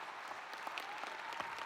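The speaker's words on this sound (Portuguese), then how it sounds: "comece a aplaudir a Jesus" Quiet, steady applause from a church congregation at a youth worship event, heard faint and distant as a continuous patter of clapping.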